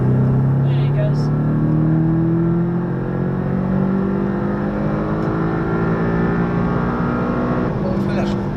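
A Porsche 718 Cayman accelerating hard on the Le Mans circuit, its engine note climbing steadily and loudly throughout from inside the car, with only brief faint sounds at the start and end.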